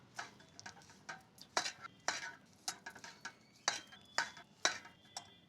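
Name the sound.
stirring ground almonds and dry coconut powder mixture in pan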